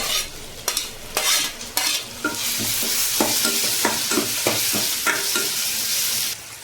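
Chopped tomatoes and mint frying in a hot pan, a loud steady sizzle with repeated clinks and scrapes of stirring throughout, no voices.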